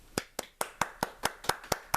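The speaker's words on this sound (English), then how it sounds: "Everyone give her a round of applause for her drawing." A classroom gives a round of applause: evenly spaced sharp claps, about eight in two seconds, fairly quiet and close, with no voices over them.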